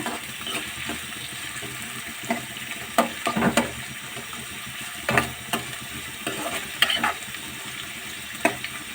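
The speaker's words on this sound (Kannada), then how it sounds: "ಈರುಳ್ಳಿ ಬೆಳ್ಳುಳ್ಳಿ ಕರ್ಬೇವು ಸಾಸಿವೆ ಜೀರಿಗೆ ಸ್ವಲ್ಪ ಚೆನ್ನಾಗೆ ಫ್ರೈ ಮಾಡ್ಕೊಳ್ಳೋಣ" Onion, garlic, curry leaves, mustard seeds and cumin fry in a pan, giving a soft steady sizzle close by. A spoon scrapes and knocks against the pan now and then, with no talking.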